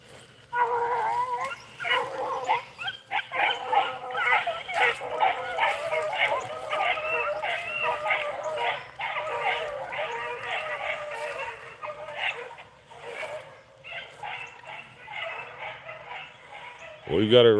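Beagle hounds baying and yipping in the woods while running a rabbit, a continuous chorus of overlapping howls and barks at moderate distance, with a brief break near the end.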